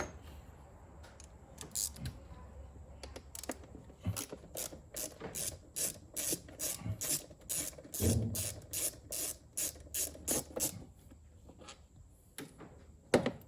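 A ratchet with an extension clicks in a steady run of sharp, rapid pawl ticks, removing a nut from a stud on a Cummins engine during a crankcase ventilation filter change, close and loud with a brief pause partway.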